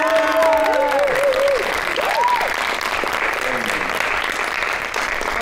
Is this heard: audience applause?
yes